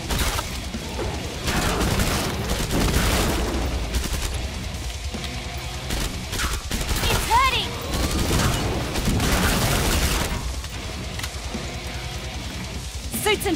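Rapid gunfire from Killing Floor 2, loud bursts of shooting with booming impacts running throughout amid dense game noise, with a voice talking over the action.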